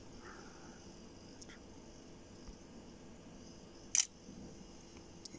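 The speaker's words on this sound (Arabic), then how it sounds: "واقدر ان انا كمان افتح الكاميرا وصور" A phone app's camera shutter fires once with a single crisp, short click, preceded by a couple of faint ticks over a quiet room hum.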